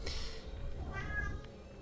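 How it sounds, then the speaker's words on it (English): A pet cat meows once or twice close by, short tonal cries over low background game noise. "And that is my cat."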